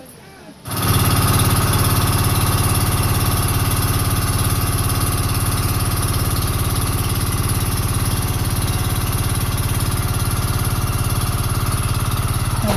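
An engine cranks to life after a brief quiet moment, then settles into a loud, steady, droning idle with constant vibration that continues unchanged to the end.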